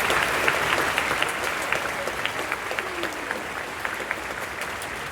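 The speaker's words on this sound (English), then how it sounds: "Give him a round of applause." Loud, dense applause from a large high school graduation audience, steady and continuous with a few sharp individual claps and faint cheers poking through.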